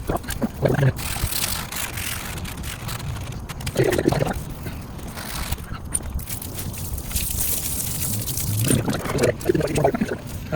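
Water spraying from a garden hose onto the front bumper of a 2004 Ford F-150 FX4 in the open air, a steady hiss that swells in several bursts as the stream shifts, with no talking.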